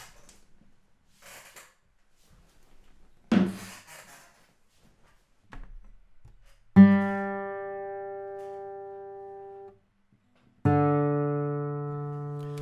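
Two sustained, plucked guitar notes ring out one after another, each decaying slowly, preceded by a few soft handling rubs and taps.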